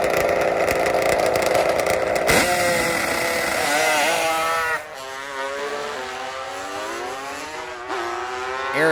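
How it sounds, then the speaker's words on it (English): A nitrous-fed two-stroke drag bike launches with hard wheelspin on a drag strip, its loud, raspy, high-pitched engine screaming and climbing in pitch almost without a break, heard close and constant. "Eric spins hard, leaves some rubber down on the racetrack."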